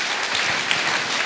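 A church congregation claps briefly, a short burst of close, even applause.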